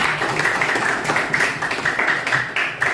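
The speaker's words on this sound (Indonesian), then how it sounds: "Tepuk tangan untuk kita semuanya." Pupils in a classroom clap in quick, slightly uneven bursts over three seconds. The clapping is close and moderately loud, with no talking over it.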